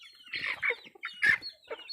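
Chickens and chicks on a rural farm in the Philippines clucking and chirping nearby in short, repeated calls with no talk.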